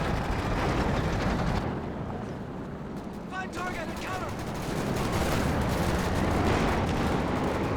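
Gunfire and cannon shots from a Sherman tank battling Volksgrenadiers in the strategy game Company of Heroes, a dense, continuous barrage of loud reports and rumbling blasts with a voice commentating over the combat.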